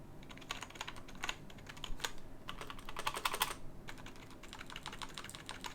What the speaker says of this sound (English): what I really love about this keyboard is the sound